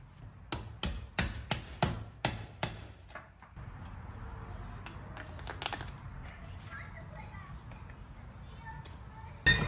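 Nails are pried and knocked out of old hardwood flooring boards: a quick run of sharp, evenly spaced knocks, then quieter scraping and handling.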